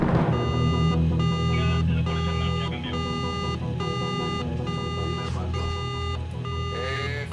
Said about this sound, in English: the alarms of the first buoy went off in the Calypso